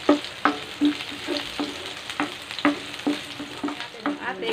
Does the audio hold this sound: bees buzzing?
no